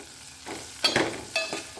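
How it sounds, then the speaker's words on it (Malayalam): Okra fries in hot oil with turmeric in a pan. A soft sizzle runs throughout, broken by a few sharp scraping stirs of a spoon close by. "നമ്മുടെ വെണ്ടയ്ക്ക നമുക്ക് വറുത്തെടുക്കാം ഒരല്പം മഞ്ഞളോടിയും കൂടെ ഇട്ടിട്ട് നമുക്ക് വറുത്തെടുക്കാം"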